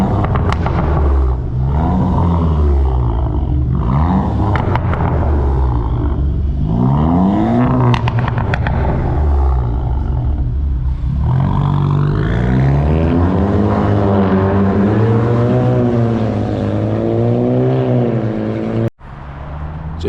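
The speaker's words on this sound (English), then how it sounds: "You give it a rev." An Audi S3 2.0 TFSI engine with a cat-back exhaust revs repeatedly, rising and falling in pitch with a deep, droning exhaust note, loud and close, then cuts briefly near the end.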